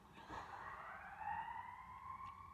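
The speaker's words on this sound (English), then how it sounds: "ambulance going by" An ambulance siren wails faintly in the distance as it passes along a street. Its tone sweeps smoothly and keeps going, quiet but clear, with no speech over it.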